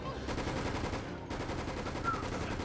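Sustained automatic machine gun fire from a Resident Evil Raccoon City co-op video game, rapid evenly spaced bursts rattling continuously for several seconds at a steady, dense rhythm.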